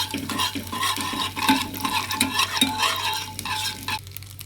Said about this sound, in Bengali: হিং পাউডারটাকে ভালো করে দিয়ে দাও এটাকেও ভালো করে ভেজে নেওয়া হোক